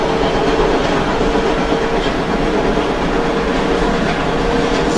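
A New York subway train on the 7th Avenue Line runs steadily in the OpenBVE train simulator game, its loud continuous rumble and wheel clatter filling the space without any voices.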